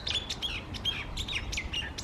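A loud bird chirps close by in quick, repeated bursts of high tweets over a quiet background, with no one speaking.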